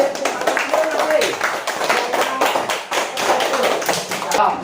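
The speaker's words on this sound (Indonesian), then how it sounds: "Tepuk tangan, ayo tepuk tangan semua" Classroom students clapping together, dense overlapping hand claps in an uneven rhythm, loud and close, with voices mixed in underneath.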